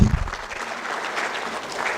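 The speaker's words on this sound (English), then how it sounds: "A round of applause for the Vice Chancellors," Conference audience applause fills the hall in a brief, steady burst of many hands clapping, with a couple of louder low thumps at the start and end.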